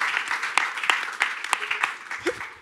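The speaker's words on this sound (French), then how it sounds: "On applaudit." An audience at a round-table event applauds, with a sustained patter of many hands clapping close by and a few louder individual claps standing out.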